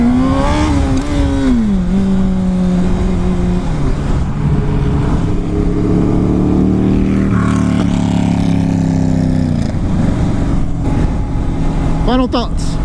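A Honda CBR600RR sport motorcycle on a test ride, its engine loud and close, rising and falling in pitch through repeated revs and gear changes, with wind rush underneath.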